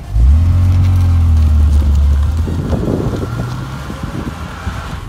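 A BMW E46 car fitted with a cheap short ram cold air intake pulling away, its engine droning low and rising in pitch, then wind rush and road noise taking over as it drives, loud and close.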